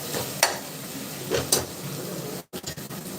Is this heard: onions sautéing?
yes